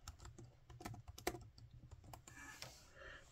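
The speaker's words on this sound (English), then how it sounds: "when we come to our calculator and we type in Christos" Quiet typing on a computer keyboard into a calculator, with irregular bursts of light clicking keystrokes at close range and no talk.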